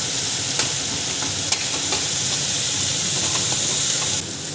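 Chopped onion with ground coriander and cumin fries in a pan with a steady, close, hissing sizzle and occasional stirring clicks, with no voices over it.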